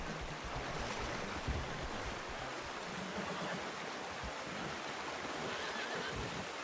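A wild horse neighs in the video game Red Dead Redemption 2 during an attempt to tame it, faint and partly buried under a constant rushing, windy wash.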